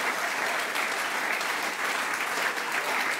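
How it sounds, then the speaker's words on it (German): A live comedy club audience applauds Sven, steady, even clapping from a crowd that fills the whole stretch without pause. "Großen Applaus für Sven."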